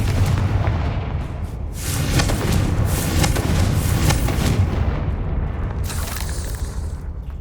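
A Confringo blasting curse goes off in Hogwarts Legacy, a sustained booming, crackling explosion rolling on for several seconds, loud and dense with a brighter burst near the end.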